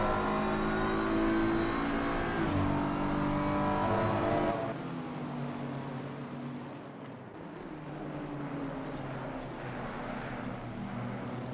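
A Bentley race car at Spa closes on slower lapped traffic, its engine a loud sustained roar that drops abruptly in pitch and level partway through, then continues as a steadier, duller drone with passing-car noise around it.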